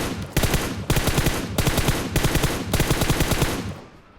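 Automatic weapon fire from the mobile game PUBG Mobile, rapid loud bursts in five or six short volleys separated by brief gaps, close and dense, ending with a fading tail.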